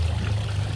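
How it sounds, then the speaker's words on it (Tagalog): A water pump in a fish tank setup pushes water up to the filter, giving a steady low hum with a continuous gushing, trickling flow. "So ito yung water pump ko. I-pump niyang"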